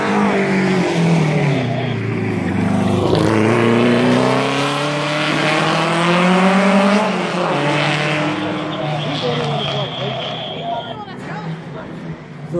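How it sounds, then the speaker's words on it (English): Cars racing head to head through town streets pass by with loud, continuous engine roar and rising revs, a steady wash of vehicle noise filling the whole stretch, with a voice talking over it. "you can see these cars going by"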